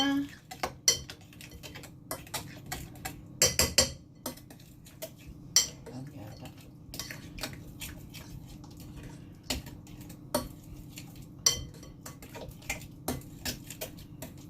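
Banana bread batter with sugar and flour is mixed in a bowl, giving repeated light clinks and taps of a utensil against the side at an irregular rhythm, quiet and close, with a faint voice in the background.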